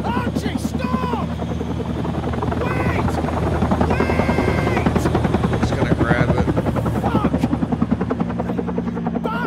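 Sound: helicopter from the video game Still Wakes the Deep

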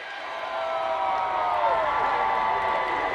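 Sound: crowd cheering at Avalanche Stanley Cup parade

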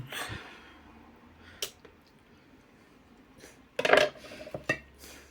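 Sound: slicing chicken fillet on a board

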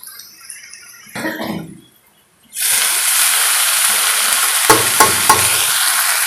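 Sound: boiled corn added to frying onions, sizzling and stirring

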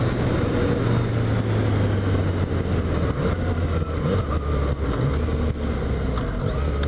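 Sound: Yamaha FZ-09 motorcycle engine riding in fourth gear

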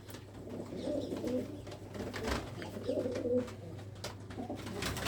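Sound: pigeons cooing in a coop, old red Cheena breed

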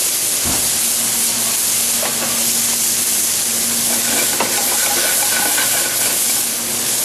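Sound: green onions sizzling in a pan with sablefish

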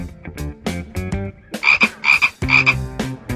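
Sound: frog croaking

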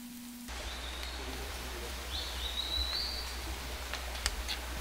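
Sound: birds singing in a quiet forest, Bidoup Núi Bà

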